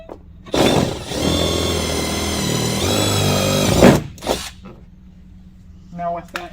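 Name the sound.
power drill drilling hole in fender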